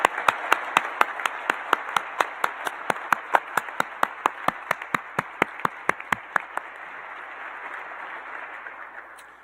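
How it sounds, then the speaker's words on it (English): Graduates receive a round of applause at a university chemical engineering and materials science senior celebration: one person's sharp, evenly paced claps lead at first, then a softer wash of crowd clapping fades out. "Let's give them a round of applause."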